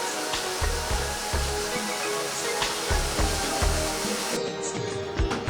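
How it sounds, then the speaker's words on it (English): Water pours into a paper-making beater loaded with torn rag, a steady loud rushing gush with churning low rumble throughout, no talk. "Now I'm going to add water to the beater."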